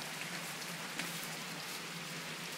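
Heavy rain with hail falls in Oklahoma as a steady, dense hiss of downpour with scattered sharper impacts, even and continuous, with no voices.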